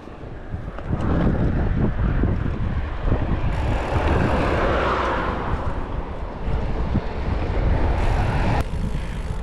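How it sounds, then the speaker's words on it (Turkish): Strong, continuous wind roars loudly against the microphone while cycling into a headwind on a riverside path along the Danube, a steady rushing buffet with no talk. "Pedallıyorum rüzgara karşı."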